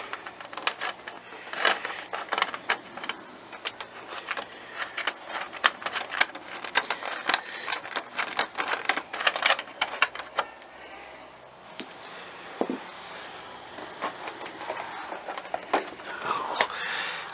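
Screws being unscrewed from the plastic fairing of a 1992 Suzuki GSX600F motorcycle, a close series of sharp metallic clicks and ratcheting taps in irregular bursts, fading to quieter handling noises toward the end.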